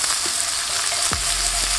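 Beef sears steadily on a hot griddle for a chopped cheese, a continuous sizzle and crackle, with one brief scrape or stir partway through.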